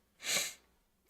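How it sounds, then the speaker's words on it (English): One short, breathy sneeze, close to the mic but quiet, a sharp hiss lasting under half a second before silence returns. "I have to sneeze again"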